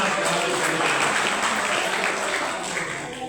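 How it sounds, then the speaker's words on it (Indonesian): A seminar audience breaks into steady, dense applause that fades slightly toward the end. "Tepuk tangan untuk kita semuanya."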